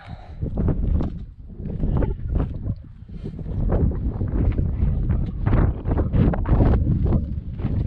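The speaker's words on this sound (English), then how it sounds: "A little breezy." Strong wind gusts across the open west peak of Bigelow Mountain on the Appalachian Trail, a loud continuous buffeting roar with surging rushes close to the microphone, and no clear speech.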